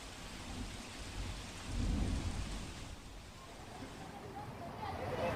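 Steady heavy late-night rain pours in Ahmedabad, India, with a low rumble swelling midway, a constant wash of noise without clear voices.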